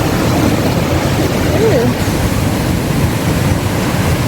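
Water rushing steadily through a sluice on a rice irrigation canal, a broad continuous roar close by, with a brief voice exclaiming over it.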